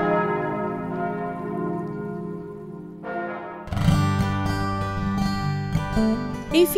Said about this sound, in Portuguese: O silêncio respeitado por todos os que passam por aqui é, por vezes, quebrado pelos sinos, que soam a cada meia hora do dia.